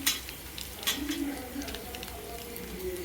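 Cumin seeds hit hot oil with curry leaves already in the pan for dahi bhindi, and a steady close sizzle follows. Stirring clinks sound over it, and a voice talks through it.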